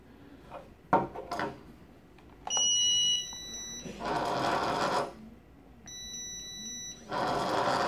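A restaurant queue pager gives two rounds of high electronic beeps, each followed by a buzzing rattle as it vibrates against a surface, with soft handling clicks between.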